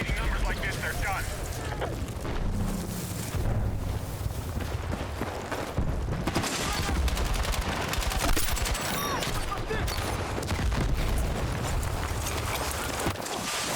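Rapid gunfire and explosions in the shooter game Battlefield 6 rattle almost nonstop for about fourteen seconds, loud and dense, with players talking over the fighting.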